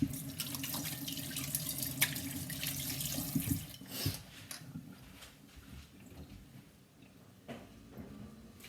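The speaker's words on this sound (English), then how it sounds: "So let me wash my hands." Tap water runs into a sink as hands are washed, a steady splashing hiss with some clatter, then the flow stops and only faint drips and small knocks remain.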